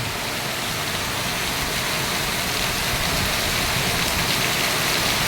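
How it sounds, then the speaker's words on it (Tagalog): Heavy rain from Typhoon Carina pours down in a dense, constant roar, loud and close, with no pauses and no one talking. "ang ulan ay hindi umihina, ganyan pa rin"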